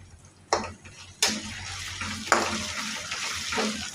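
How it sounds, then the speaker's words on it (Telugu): Ginger-garlic paste with cumin and curry leaves stirred in a pan, a soft sizzle with a few sharp scraping strokes of a spoon, close but fairly quiet, no speech. "ఇవన్నీ బాగా కలుపుకోవాలి"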